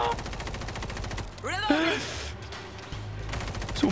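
Rapid machine gun fire in a zombie video game set in Moscow, hammering steadily in loud bursts with a brief lull midway, while a voice rises over the shooting.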